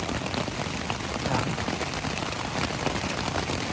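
Heavy rain pounds steadily on a tent surface on the Appalachian Trail, a dense, loud, continuous patter with no voices.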